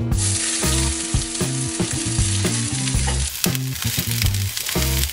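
Onion frying in olive oil in a pan while cooking a four-cheese risotto, a loud steady sizzle and crackle throughout, with rhythmic stirring or scraping over it and no talking.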